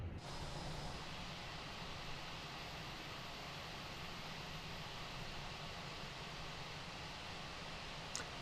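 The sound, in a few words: Airbus A320 jet engines during pushback, Microsoft Flight Simulator video game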